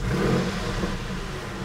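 A Porsche 996 flat-six engine runs with a steady, close mechanical drone and a slight rise in revs early on, then settles back toward idle.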